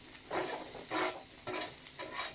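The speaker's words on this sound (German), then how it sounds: "Wir machen jetzt den Knoblauch. Muss kurz anbraten." Garlic frying in a pan over a campfire at an outdoor cooking class, heard as four swelling bursts of sizzle as it is stirred, close and fairly quiet.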